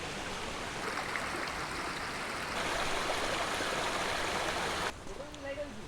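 Barabakhra Waterfall in Bargarh pours with a steady, dense rush of flowing water throughout, softening slightly near the end, and a voice may be faintly present beneath it.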